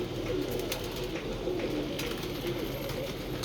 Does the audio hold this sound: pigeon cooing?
yes